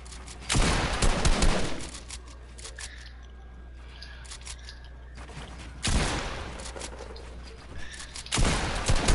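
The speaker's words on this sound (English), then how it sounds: "Shotgun." Several loud shotgun blasts in Fortnite Creative zone wars, each a sharp broadband crack with a decaying tail, spaced irregularly with quieter game noise between.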